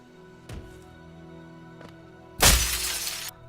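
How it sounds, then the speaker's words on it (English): A glass jar breaks in the video game Hollow Knight, two faint taps followed by a sudden loud, bright shatter that rings for about a second before cutting off. "there are glass jars that, when destroyed, emit an ear-shattering noise"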